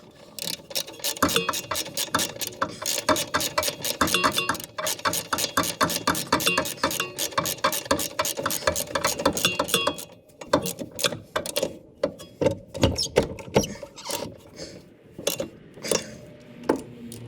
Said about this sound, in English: Run the castle nut down.